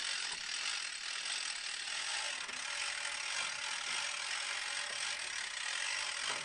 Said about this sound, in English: A two-speed winch provides easy mechanical advantage for loading large, heavy logs.